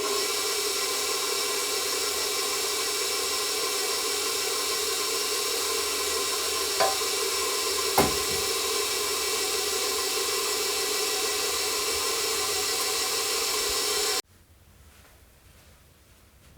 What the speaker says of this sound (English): I'll turn on the mixer, let it run for about 3 or 4 minutes